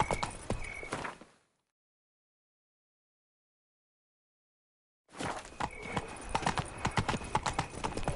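Roach, a horse in the Witcher 3 video game, clip-clops in quick hoofbeats for about a second, then silence, then the rapid galloping hooves resume with other game sounds.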